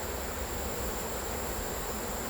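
A dense swarm of agitated honeybees at an open hive during an inspection makes a steady, loud, close buzzing drone that fills the air without a break and with no voices.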